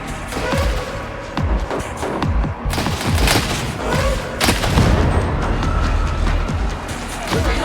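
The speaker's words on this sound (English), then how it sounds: "Exploding barrel." An exploding barrel bursts in the Warhammer 40,000: Darktide video game amid a barrage of booming blasts and rapid gunfire, loud, dense and chaotic, with voices faintly mixed in.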